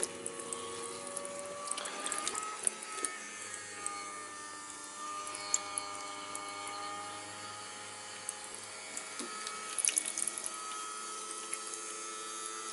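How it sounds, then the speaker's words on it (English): Electric fuel pump on a Kawasaki GTR1400 motorcycle drawing fuel and water out through the disconnected fuel line, a steady whirring hum with faint liquid gurgle, close and continuous with no talk. "We'll just get the pump to pump out most of the fuel / water."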